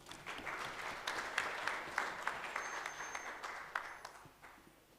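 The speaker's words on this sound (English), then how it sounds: "A round of applause for Prof. Temane." Audience applause at a university gender-based violence dialogue event, moderate clapping throughout that gradually tapers off, with no talking over it.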